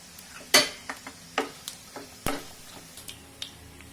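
Chana dal, urad dal, mustard seeds and cumin fry in hot oil for coriander rice, a soft sizzle punctuated by sharp irregular pops and crackles close by, with occasional stirring clicks.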